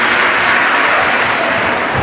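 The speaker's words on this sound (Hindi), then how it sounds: "जोरदार ताली बजाकर" Loud, dense applause from a large audience at a Shiv Mahapuran religious discourse in Bathinda, Punjab, a steady wall of clapping that holds for the whole stretch with no voices.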